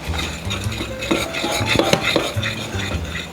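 Pancake batter with sugar is stirred in a bowl, the utensil scraping and clinking against the sides in a quick, busy rhythm, close and fairly loud.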